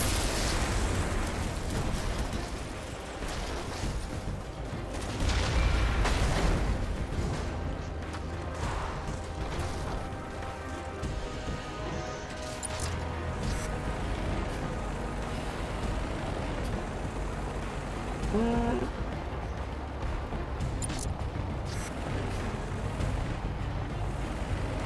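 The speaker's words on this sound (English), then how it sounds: "They just took out two high, medium value targets with one shot to each" Missile strikes in the Red Faction video game land as heavy rumbling blasts, strongest in the first several seconds, over a continuous dense wash of battle noise.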